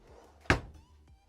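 A motorhome kitchen drawer in a Carthago C-Tourer shuts with one sharp, solid thunk instead of a soft close. The knock is single and close, and the room is quiet around it.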